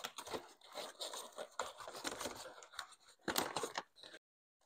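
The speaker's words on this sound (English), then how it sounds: "I can now go ahead and put it upside down in my paper bag" A dormant bareroot geranium is pushed upside down into a paper bag, giving a faint run of crinkling, rustling and scraping paper sounds that stop abruptly near the end.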